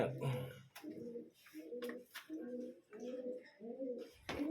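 Pigeons coo repeatedly at the Phanom Rung stone castle, a run of six or so soft, rhythmic low coos, fairly near but quiet, with faint brief outdoor noises between them.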